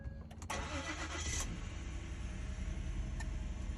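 A 2011 Ford Explorer with a newly fitted water pump cranks briefly, catches and settles into a steady, fairly loud idle, heard close with no talking.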